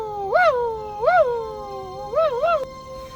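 A dog howls loud and close in four rising and falling wails, the last two coming in quick succession.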